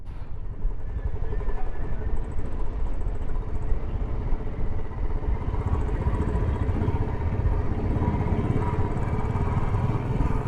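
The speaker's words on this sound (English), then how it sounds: "Let's see if a motorcycle can go up." A motorcycle climbs a steep mountain road near Sinthan Top, its engine droning steadily and loudly up close with a constant rumble and wind buffeting, uninterrupted by talk.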